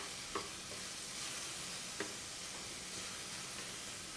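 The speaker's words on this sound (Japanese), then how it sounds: "いいですね、このジュージューいう音ね" Onions seasoned with salt and pepper fry in a pan, giving a steady broadband sizzle with a few sharp pops from stirring, close and continuous with no talk.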